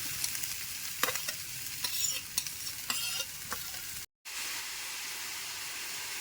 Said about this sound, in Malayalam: ഒരു പാത്രം അടുപ്പിൽ വെച്ച് വെളിച്ചെണ്ണ ഒഴിച്ച് ചെറുതായിട്ട് അരിഞ്ഞ സവാള ഇടാം